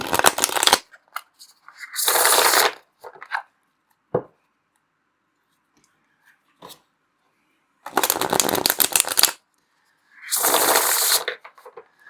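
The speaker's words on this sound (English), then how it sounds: "It's a great shuffle." A deck of tarot cards is shuffled in several loud, close riffling bursts, separated by pauses with soft taps and card handling.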